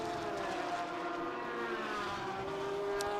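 A race car rolls down pit road toward its pit box at Road Atlanta, its engine a steady, moderately distant drone with a slight rise in pitch near the end.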